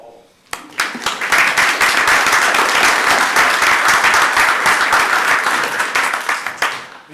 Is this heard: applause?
yes